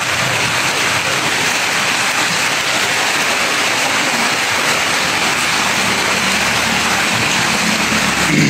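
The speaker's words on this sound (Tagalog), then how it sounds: "medyo malakas yung ulan dito" Heavy rain pours down steadily, a dense, loud, continuous hiss filling the scene without pause and with no voices over it.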